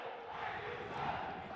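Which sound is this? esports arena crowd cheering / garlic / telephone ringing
esports arena crowd cheering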